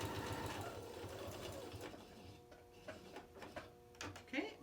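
A sewing machine stitches a fabric bin, running in steady rapid bursts that pause briefly and resume, close and clear, with short back-stitching passes and light mechanical ticking.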